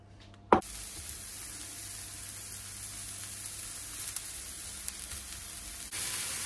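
Mushrooms frying in oil in a pan give a steady, even sizzle that follows a short sharp clatter near the start, with no talk over it.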